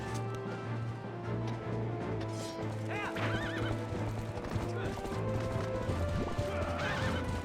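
A horse's hooves clip-clop rapidly in a galloping rhythm in the video game Twilight Princess HD, with loud neighs and whinnies rising over the steady beat.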